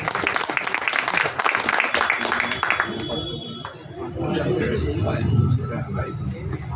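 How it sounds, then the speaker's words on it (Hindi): Crowd at a district ceremony honouring former armed forces soldiers in Gangapur City claps loudly for about three seconds, then the applause fades as someone speaks over a public address system. "जोरदार तालियां"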